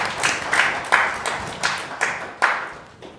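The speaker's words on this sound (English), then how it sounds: "big round of applause for him now" A seated audience at a Nepal-UK technology forum applauds. Claps pulse in a fairly regular beat, moderately close and strong, with no speech over them.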